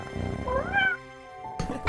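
A chubby cat meows in a fairy-tale cartoon, with one drawn-out, rising and falling meow up close, a brief pause, then a second shorter cry.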